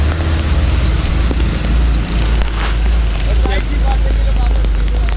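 Heavy rain pours onto a city road in Karachi while a motorbike rides through it, a loud continuous broadband wash with strong low wind rumble from motion, steady throughout.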